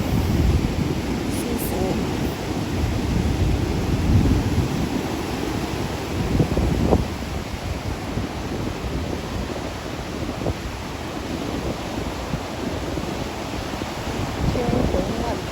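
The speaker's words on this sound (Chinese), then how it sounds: "风是越来越大了" Strong, rising seaside wind buffets the microphone over rumbling, crashing surf, with a voice speaking briefly.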